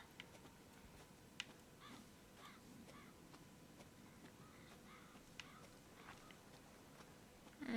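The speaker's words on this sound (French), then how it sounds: "Des corbeaux qui se posent." Crows caw faintly in the distance in the video game Resident Evil Biohazard, scattered short calls over a quiet eerie ambience with a few soft ticks and clicks.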